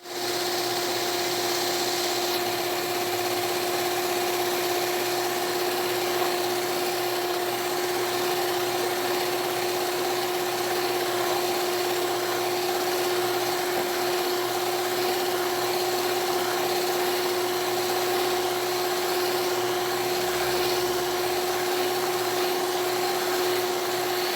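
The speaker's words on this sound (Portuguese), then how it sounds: "vou ligar a batedeira, na verdade, pra bater esse chantininho" Stand mixer whipping a mixture of whipped cream for cake decorating, a steady loud electric motor drone with a constant tonal hum and no pauses, heard up close without any speech.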